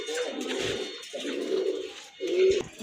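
A pair of white Mukhi fancy pigeons coo in three close, throaty bursts, each about a second long with short gaps between them, heard up close and without any talk.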